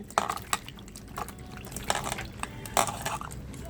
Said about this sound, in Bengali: শশাগুলো একটু জল দিয়ে ধুয়ে নেব